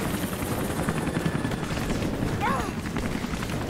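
A helicopter in the video game Rise of the Tomb Raider drones with a steady rotor rumble, mixed with game noise and a brief whistling sweep partway through.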